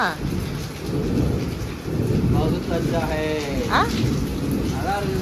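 Thunderstorm with steady heavy rain on surfaces and rolling thunder throughout, loud and close, with faint voices briefly audible beneath the downpour.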